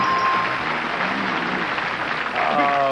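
A studio audience on The Price Is Right in 1982 keeps up loud, dense, steady applause, with voices mixed into the crowd noise.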